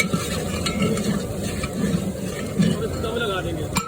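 A large pot of gur zarda, sweet rice with jaggery, is stirred and mixed after boiling, a bubbling, scraping churn of wet rice heard close, with a voice talking over it.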